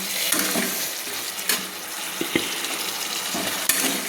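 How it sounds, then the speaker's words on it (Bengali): Soaked potatoes sautéing with spices in a pan for an elephant foot yam and prawn curry, a steady close sizzle broken by several sharp spoon scrapes and knocks. "মশলার সঙ্গে আলুগুলো আমি কষিয়ে নিচ্ছি"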